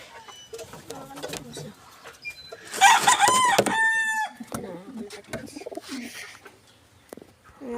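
A rooster crows loudly in the middle while pigeons coo softly around it, with clucking and scattered rustling.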